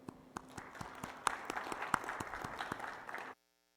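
An audience at the SC21 conference bursts into steady applause welcoming invited speaker Dr. Kim Hazelwood, a dense crowd of clapping with a few sharper claps standing out, lasting about three seconds before cutting off abruptly.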